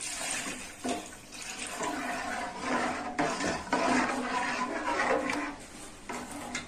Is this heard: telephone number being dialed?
no